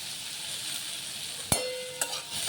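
Ginger, cumin and coriander powder sizzle steadily in a hot pan, a continuous frying hiss with two brief clatters or stirs near the end, no voices.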